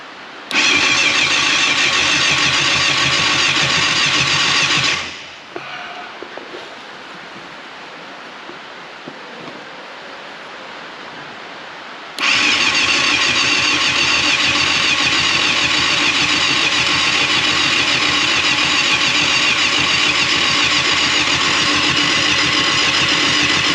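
A 1989 Yamaha FZR600 Genesis motorcycle engine cranks and strains to start, a loud continuous churning roar that cuts out abruptly into several seconds of near silence with faint clicks, then resumes just as loud and steady for the remainder.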